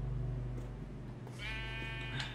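A single Minecraft sheep bleat, a short, wavering game-animal cry, rises clearly about halfway through over a steady low background hum, with no talking.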